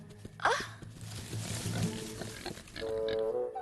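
Wild boars grunt and squeal in dark woods, a sharp squeal followed by rough low snorting grunts at close range, with brief talk alongside.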